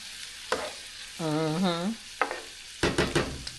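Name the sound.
butter substitute sautéing in a pan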